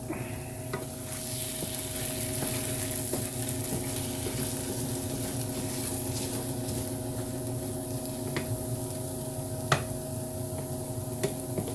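Eggs fry in a pan with a steady, moderate sizzle and crackle throughout, with occasional small ticks and clicks from utensils and no voices.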